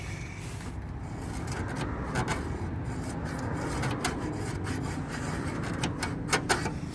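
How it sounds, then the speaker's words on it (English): An L-shaped pick scribes a line along old quarter-panel sheet metal on a 1977 Mercury Cougar, giving a steady close scraping rasp with sharper scratchy bursts toward the end. "taking your L-shaped pick tool, I want you to scribe that line along the old metal"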